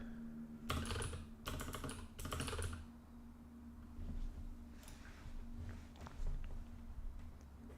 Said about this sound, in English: We'll type in Pharrell Williams here.